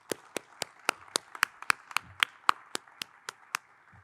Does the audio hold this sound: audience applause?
yes